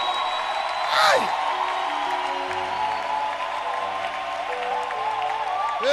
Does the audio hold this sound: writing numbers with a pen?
no